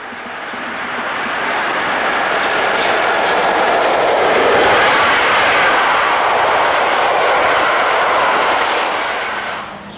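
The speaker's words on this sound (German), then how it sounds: "Eine Spezialität auf diesem Streckenabschnitt waren die Korridorzüge der ÖBB, die zwischen Salzburg und Kufstein verkehrten, mit dem elektrischen Triebwagen der Reihe 4010." An ÖBB class 4010 electric railcar running as a corridor train between Salzburg and Kufstein passes by, a loud broad roar swelling up, holding steady, then fading, with no clear wheel beats.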